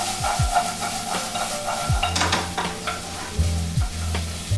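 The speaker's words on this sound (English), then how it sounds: "Stir fry away." Green beans and kaffir lime leaf stir-fried in Thai red curry paste for pad prik king, a loud close sizzle with repeated scraping strokes of the spatula against the wok, no talking.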